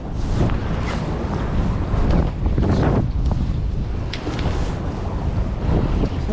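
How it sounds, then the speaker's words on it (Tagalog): Strong sea wind buffets the microphone on a fishing boat out on open water, a constant loud roar with gusting surges and waves beneath it. "Malakas ng hangin."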